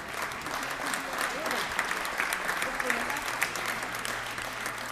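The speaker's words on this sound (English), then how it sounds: "please give her a round of applause as well" Steady applause from an audience at a tribute event, dense clapping sustained throughout without a break.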